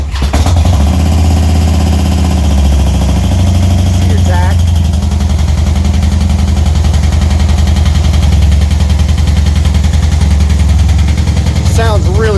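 A 2008 Harley-Davidson FXDC Dyna Superglide Custom with aftermarket pipes fires up and settles into a loud, deep, steady idle close by. A few brief sharp blips rise over the rumble.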